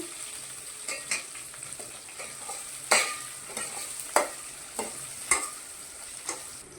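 Onions and vegetables for a vegetable kurma fry in a pan with a soft steady sizzle, punctuated by a series of sharp spatula scrapes and taps every second or so.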